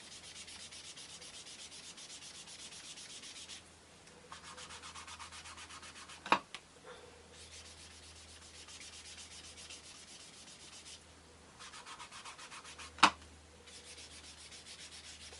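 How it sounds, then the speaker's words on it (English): A sponge dauber rubs ink onto paper in steady, soft scrubbing strokes, with brief pauses between passes and a couple of sharp taps, close and fairly quiet throughout. "rub your dauber over"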